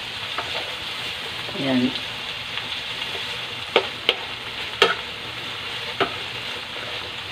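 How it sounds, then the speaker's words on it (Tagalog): Garlic, onion and tomato sauté in a pan with a continuous sizzle, broken by scraping stirs and a few sharp utensil clinks; one short word is spoken. "Saka tayo maggisa. Ilagay ko na yung ating bawang, sibuyas, kamatis."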